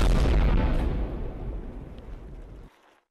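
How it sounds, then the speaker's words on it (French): A video game explosion sounds as one big booming blast that starts loud and then fades out over about three seconds. "Bah je crois que ça a explosé hein."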